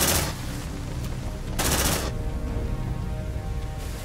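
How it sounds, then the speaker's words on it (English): A sentry gun in the Aliens: Dark Descent video game fires sustained bursts of automatic fire, loud near the start and again in the middle, over a steady background hum. "Deploying sentry gun."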